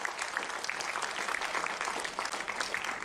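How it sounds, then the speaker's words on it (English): A room full of people clapping steadily at an innovation and entrepreneurship event in India, dense and continuous, moderately loud with no voices. "With big round of applause."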